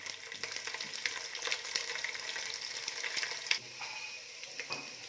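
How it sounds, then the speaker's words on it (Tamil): Garlic frying with fennel and cumin in hot oil gives a steady, close sizzle with scattered crackles and the odd stirring scrape. A brief sharp clink is heard partway through. "பூண்டு நல்ல பொன்னிறமா வதங்கிருச்சு"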